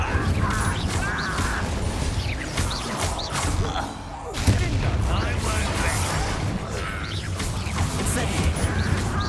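Incendio fire and Confringo blast spells are cast repeatedly during a Hogwarts Legacy battle, making a dense run of whooshing bursts and thuds with a brief lull midway, mixed with game voices.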